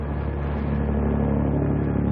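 A car engine in a 1936 film serial, a steady mid-pitched drone that swells slightly over two seconds, heard alone on an old, muffled soundtrack.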